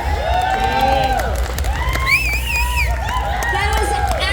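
A pageant crowd at a tattoo expo cheers, whoops and claps loudly, with shrill voices rising over a dense babble of applause and chatter throughout.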